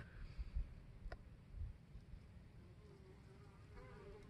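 Honey bees buzz at a hive entrance as they bring in pollen, a close, continuous humming drone with individual bees passing near, and a person speaks quietly now and then.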